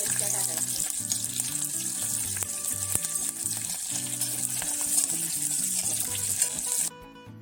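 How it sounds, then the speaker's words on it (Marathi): Green chillies hit hot oil while making vada pav, a bright steady sizzle of frying with a splash of running water and occasional clinks of utensils, ending abruptly. "आता आपण यात मिरच्या टाकायच्या।"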